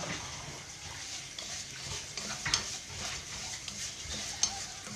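Vermicelli frying in fat with bay leaves, a cinnamon stick and two cardamom pods is stirred through, giving a steady close sizzle with occasional scraping clinks from the spoon against the pot.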